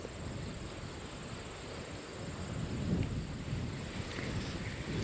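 Wind blows over open water around a fishing boat, a steady low rumble of gusts against the microphone with no voices.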